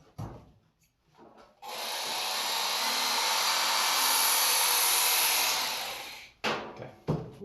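An axe edge rides a Worksharp tool grinder belt in one sustained, loud abrasive whine lasting several seconds, with short scraping touches before and after the main pass.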